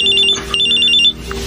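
A cellphone ringtone chirping in a rapid repeated electronic pattern, loud and close, two bursts separated by a short gap, with no speech over it.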